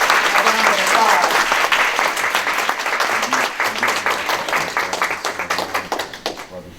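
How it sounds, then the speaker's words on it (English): A panel-discussion audience gives a round of applause for clinicians: dense, steady clapping from many hands that holds strong, then thins into scattered claps and fades near the end. "Let's give our clinicians here a round of applause."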